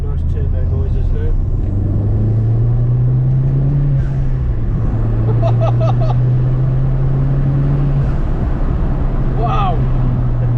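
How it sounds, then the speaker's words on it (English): A hybrid-turbocharged Ford Fiesta ST with a dump valve drives past, its engine droning steadily with rising and falling pitch as turbo whistles and short hissing bursts come through. Heavy vehicle noise fills the whole stretch. "Yeah, you can have some nice turbo noises now."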